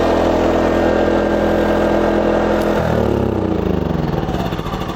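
Gas-reconnected EcoFlow Smart Generator engine running steadily up close, a constant loud hum that shifts to a rougher, lower pulsing tone partway through.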